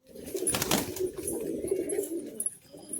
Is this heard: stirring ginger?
no